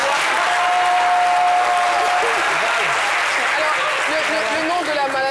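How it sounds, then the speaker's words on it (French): An audience breaks into sustained applause, a dense, loud wash of clapping that continues throughout with voices audible within it. "Et si on applaudissait, alors il donne le coup d'envoi."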